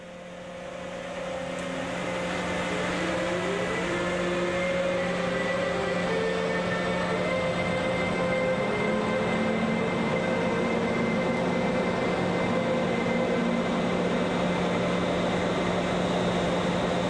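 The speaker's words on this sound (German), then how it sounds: "Der Zug verlässt das Stadtgebiet von Frankfurt-Oder." A Eurosprinter electric locomotive hauling a train out of Frankfurt (Oder), running steadily with a constant rolling roar and rising motor whine, close and loud throughout with no speech.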